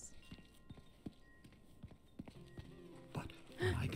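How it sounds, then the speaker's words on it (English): Footsteps in The Unfinished Swan, a series of sharp, evenly spaced hollow clops close up, followed by a louder burst of game sound at the end, with quiet talk nearby. "I can tell I'm still walking when I hear footsteps."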